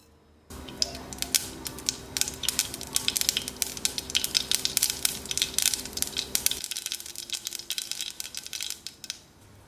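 Mustard seeds and urad dal splutter in a pan of hot oil, with dense rapid crackling pops near and loud, continuing steadily throughout.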